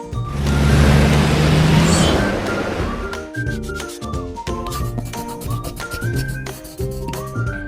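A bus engine rumbles loud and steady for about three seconds, then gives way to cheerful music.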